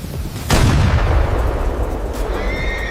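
A loud blast erupts and rumbles on, and a shrill whinny from a panicking Mongol warhorse rises faintly near the end over the fading roar.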